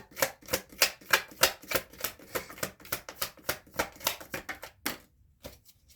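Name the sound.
shuffling tarot cards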